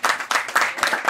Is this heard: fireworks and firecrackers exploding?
no